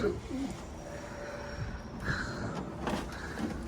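Soft cooing of pigeons in a coop, a few low calls repeated close by over a quiet background.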